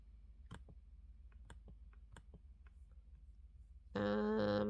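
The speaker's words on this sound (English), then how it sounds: "Maybe I can right click." A computer mouse clicks in a quiet room, a series of faint, sharp ticks spaced irregularly, followed by a sudden loud tonal electronic sound near the end.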